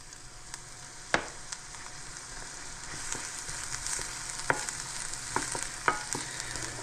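Chopped shallots sauté in a little olive oil in a hot pan, giving a steady close sizzle with scattered pops and crackles and a few sharp utensil ticks.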